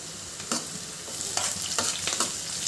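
Onion and coriander leaves frying in a pan give a soft, constant sizzle, with several quick spatula strokes scraping through it; fairly quiet and close, with no speech.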